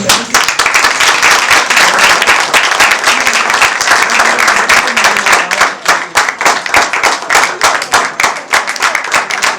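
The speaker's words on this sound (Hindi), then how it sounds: "आपकी भरपूर तालियों में।" A church congregation claps during a worship and gospel singing gathering, loud and close, with the clapping breaking into distinct sharp individual claps toward the end.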